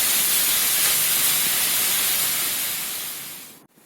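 Loud, steady sizzling hiss of chopped, washed spinach being sautéed in a pan for palak soup, fading toward the end and stopping abruptly.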